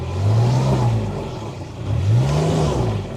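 Kubota RTV-X900 utility vehicle engine pulling in full drive, a steady close mid-pitched drone that rises and falls twice as the throttle is worked, with no voices.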